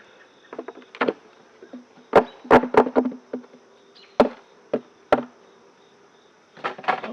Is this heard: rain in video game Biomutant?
no